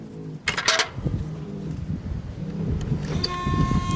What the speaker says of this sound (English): Can hear that pump start up.